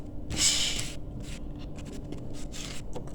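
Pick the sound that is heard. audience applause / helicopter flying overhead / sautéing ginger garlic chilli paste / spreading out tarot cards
spreading out tarot cards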